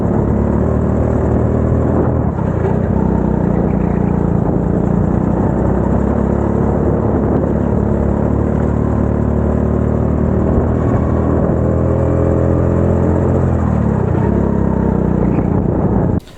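A racing kart screams around a track during a junior karting championship heat at Castle Combe, its engine note steady and loud from start to finish, with shifting whine and rumble and no voices.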